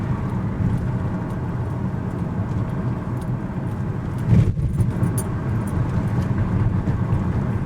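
A 2011 Ford Ranger pickup truck drives along with a steady, even road and engine hum, with one brief knock partway through and no talk.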